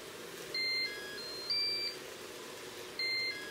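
A Cookeo multicooker sounds three short electronic beeps spaced over a few seconds against a faint kitchen background hum, with no voice over them.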